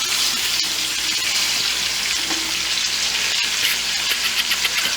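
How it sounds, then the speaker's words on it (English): Escovitch fish fries in hot oil for Jamaican cooking, giving a steady, close, bright sizzle with bubbling crackle throughout and no talking. "I'm going to finish frying the other batch"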